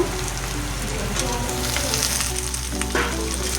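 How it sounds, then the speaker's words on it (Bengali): Onion frying in a pan with black cumin and green chili, for a koi fish curry: a dense, continuous sizzle like light rain, close by and steady, with a faint scrape near the end. "পেঁয়াজটা ভালো করে ভাজা হয়ে গেলে লাল লাল হয়ে এবার টমেটোটা দিয়ে দেব"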